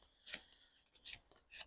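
Tarot cards riffled by hand in three short, soft bursts of crisp papery rustle with quiet gaps between, close and faint, no talking.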